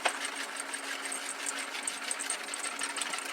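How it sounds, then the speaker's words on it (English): A whisk runs steadily through a sweet pickle juice dressing in a bowl, making a continuous close, busy scraping and clicking rattle with no break and no talking. "So you just want to get your whisk and just whisk it all together."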